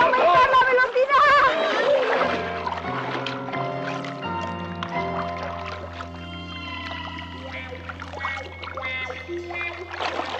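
A cartoon boat speeds up across the water with a rising whoosh and splash, layered under sustained musical tones and an excited character's voice.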